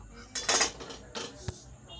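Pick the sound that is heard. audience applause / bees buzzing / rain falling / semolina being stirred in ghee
semolina being stirred in ghee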